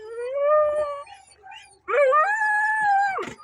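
A dog howls at a veterinary clinic, a rising, wavering cry that fades into a whimper before a second, louder howl swells and trails off, close and loud with no talk over it.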